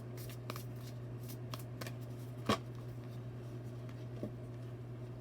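Cards for a reading are shuffled and riffled in soft, faint snaps and brushes, spaced irregularly with one sharper slap near the middle, over a steady low electrical hum.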